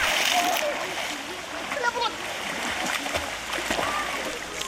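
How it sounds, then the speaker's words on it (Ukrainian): Children jump from a bridge into a river at a beach in Svatove. Their splashes and rushing water sound under steady chatter and voices from a busy summer crowd. "Діти стрибають у річку прямо з мосту."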